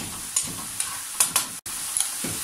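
Ground beef sizzles in a pan as paprika and mustard are stirred in, a steady close frying hiss broken by a few quick scraping strokes of the spoon against the pan.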